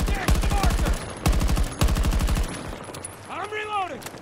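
Rapid bursts of automatic gunfire in a Battlefield 2042 multiplayer match, several loud volleys in quick succession, with a helicopter or vehicle whine rising toward the end.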